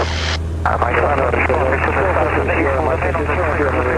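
A Piper PA-28 light aircraft engine drones loudly and steadily through the takeoff roll, a constant low hum with harsh broadband cabin noise, while a person talks over it almost throughout.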